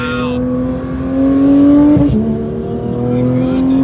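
Porsche GT3 engine accelerating on a road, a loud rising rev that climbs steadily, dips briefly at a shift, then pulls again.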